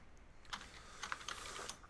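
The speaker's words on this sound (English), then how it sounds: "I hear typing." Faint keystrokes on a computer keyboard, a quick irregular run of clicks heard at a slight distance in a quiet room.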